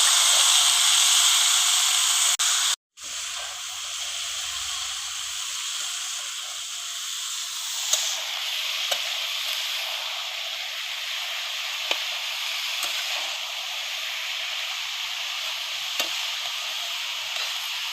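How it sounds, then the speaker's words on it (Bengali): Cabbage and shrimp frying with spices give off a steady sizzling hiss that drops out briefly, then carries on softer, with faint stirring taps and scrapes and no talking. "মশলার সাথে ভালো করে মিশিয়ে নেব আমি"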